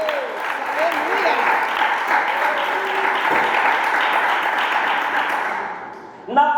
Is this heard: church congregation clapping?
yes